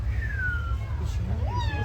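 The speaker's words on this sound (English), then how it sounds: "Jungle cat." A jungle cat at a zoo lets out a drawn-out meow and then a second rising meow, fairly close over a steady low hum, with faint voices in the background.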